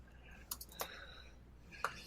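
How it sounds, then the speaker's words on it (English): Quiet, distant clicking of a computer keyboard being typed on, a few irregular taps over a low steady background hum. "I hear you madly typing away there"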